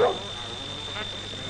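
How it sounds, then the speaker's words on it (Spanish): A dog barks in a quiet, tense night setting near a house, with one short bark at the start and a softer second one about a second later over a low steady hum. "El perro seguía ladrando."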